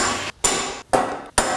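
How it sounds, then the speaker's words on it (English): A hammer strikes a steel center punch on a steel knife blank in a workshop, three sharp ringing metallic blows spaced about half a second apart, loud and close with no talk. "I will hand this to you for center punching."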